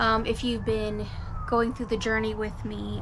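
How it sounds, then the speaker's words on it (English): A rising and falling siren from a nearby highway wails faintly in the background while a person talks steadily over it. "I'm sorry for the sirens, I can hear that."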